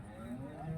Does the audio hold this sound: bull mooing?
yes